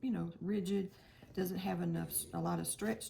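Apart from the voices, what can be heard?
No distinct noise like a dog, phone or traffic.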